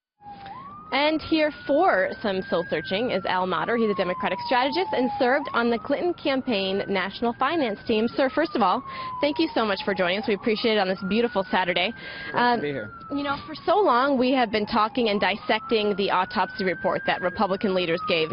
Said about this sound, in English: excuse the sirens, of course, in the background